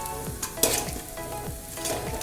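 Chicken biryani masala being stirred and sautéed in a hot pan: a steady sizzle with repeated scraping strokes of the spoon, close up and with no voices.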